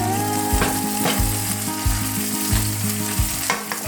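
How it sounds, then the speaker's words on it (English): Asparagus and other vegetables fry in a pan beside portobello mushrooms with a steady close sizzle, interrupted by repeated scraping and stirring clatters. "add the asparagus to the pan. And then let the veggies fry for a couple of minutes"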